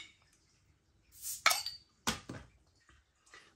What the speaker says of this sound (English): Let's get it out into a glass and see what we get.